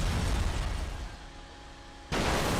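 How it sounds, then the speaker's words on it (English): A car blowing up in the Burnout 3: Takedown racing game, a dense roaring burst that eases off and then surges again sharply, with no talk. "We'll need to do an explosion to reach it though, like this."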